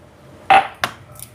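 A utensil scrapes and clinks against a pan while butter and pepper are stirred into prawn noodles: one sharp metallic scrape followed by two lighter knocks, close and clear.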